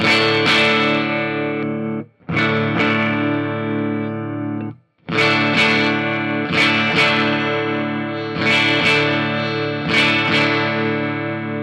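A distorted electric guitar plays strummed chords in repeated bursts with short gaps between, sustained and buzzy, close and loud.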